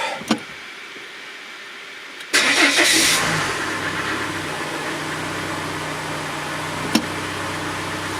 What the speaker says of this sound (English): And now start the car up.